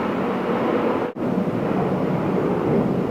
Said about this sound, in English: I think the plane noise is gone